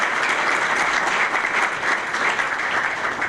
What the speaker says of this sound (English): you can give him a round of applause now